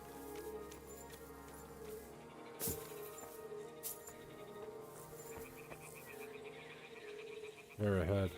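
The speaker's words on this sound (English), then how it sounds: "I'll listen for croaking." Frog croaking in the video game Kingdom Come: Deliverance II, a low rhythmic croaking bed under game ambience and music, with a louder burst of croaks near the end.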